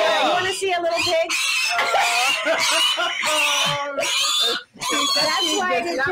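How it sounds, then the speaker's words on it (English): A little pig squeals and oinks in loud, shrill bursts close by, one after another, with people talking and laughing around it. "You want to see a little pig?"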